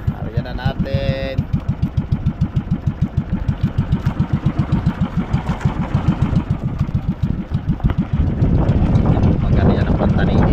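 A large wooden outrigger boat's engine starts and runs loud and close, a steady rapid chugging pulse that smooths into a constant roar, with people talking over it.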